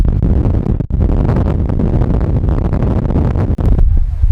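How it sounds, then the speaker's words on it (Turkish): Loud, strong seaside wind buffets the microphone in a constant low roar, with gusty rumbling throughout and no voices. "Çok rüzgar var."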